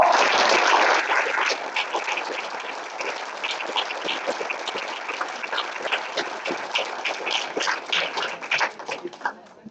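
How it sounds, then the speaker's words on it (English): An event audience at an award ceremony breaks into sustained applause during a standing ovation, dense clapping loudest at first, then thinning into scattered, uneven claps toward the end. "It's nice to start an event with a standing ovation"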